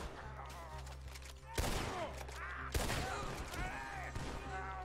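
Rifle shots in Red Dead Redemption II crack out sharply, two loud reports about a second apart over a low steady hum of game ambience, each followed by a brief ringing tail.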